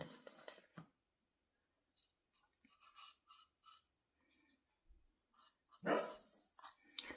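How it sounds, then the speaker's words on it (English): A dog in a home kitchen barks at something outside the window, giving a few sharp barks at the start and again near the end, with faint quiet noises in between. "He's sitting there looking out the window for stuff to bark at"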